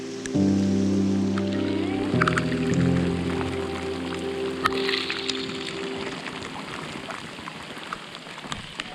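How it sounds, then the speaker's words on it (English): A rainstorm pours down on a northern canoe expedition, a constant close patter of drops, with a low droning hum in the first few seconds. "30 degrees out and you get a nice rain like this"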